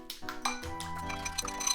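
Eggs and a spoonful of sugar are whisked in a bowl for a Japanese home-cooked dish, giving quick, close, light clinks and taps of utensil against the bowl in an uneven rhythm.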